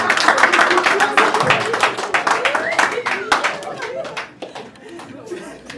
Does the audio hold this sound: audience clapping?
yes